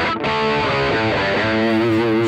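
An electric guitar played through a Mooer Cab X2 pedal emulating Fender Bassman 4x10 and Deluxe Reverb 1x12 cabinets rings out loud and sustained, with strummed chords and overdriven tone over about two seconds.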